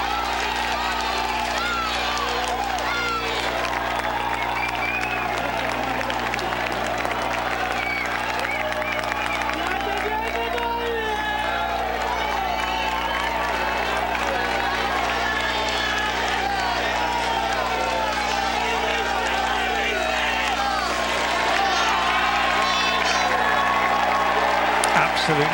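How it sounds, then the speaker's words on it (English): A dense, loud roar of spectators cheers and applauds continuously at a Giro d'Italia cycling stage finish, with a steady hum underneath and no break for the whole stretch. "Listen to this crowd. Let's just stay with the noise,"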